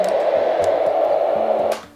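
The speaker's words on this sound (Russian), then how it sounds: "И такой более высокий звук белого шума." Steady hiss from a newborn's white noise machine on its higher-pitched setting, continuous and even before cutting off near the end.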